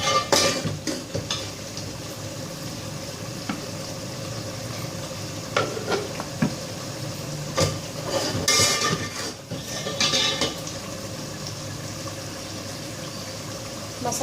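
Masala being fried for potato rice (aloo ke chawal, taahri), stirred in a pan with a spoon scraping the metal over a steady sizzle, with clinks and knocks throughout and no talk.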